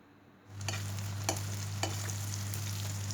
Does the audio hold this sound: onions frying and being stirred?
yes